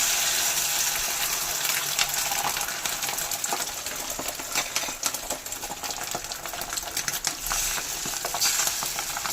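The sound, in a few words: beaten egg frying in hot oil in a wok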